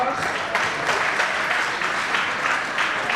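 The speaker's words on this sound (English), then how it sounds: "Please give them a warm applause." Steady applause from the audience at a school annual day celebration, dense and sustained throughout with no pauses, filling the hall at moderate distance.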